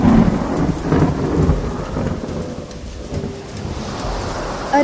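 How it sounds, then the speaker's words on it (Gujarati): Heavy rain with thunder as a story sound effect, with dense steady rainfall and low rolling thunder rumbling underneath, loud and continuous with no voices. "ભારે વરસાદ શરૂ થઈ ગયો."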